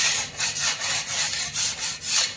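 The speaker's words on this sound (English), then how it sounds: "It has a layer of clay on it that I'm just taking and scraping off real quick." A tool scrapes a layer of clay off a pottery turntable in steady, close, rhythmic rasping strokes, about eight bright scrapes with no voices.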